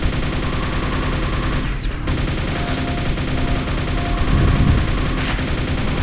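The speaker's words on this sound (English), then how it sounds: "Nail gun, a staple of Quake." Rapid nail gun fire in the video game Quake, a dense, continuous mechanical rattle of shots running unbroken at close range alongside a droning background, with brief thuds and scrapes mixed in.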